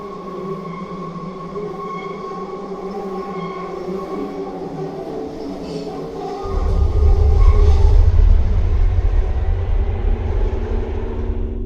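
A subway train roars through a dark tunnel with a steady broadband rumble, and its low, heavy drone swells louder partway through as it speeds along.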